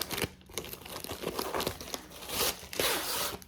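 A sealed plastic package pouch is pulled open during an unboxing, with close crinkling, crackling and tearing bursts repeating irregularly and growing louder toward the end; no talking.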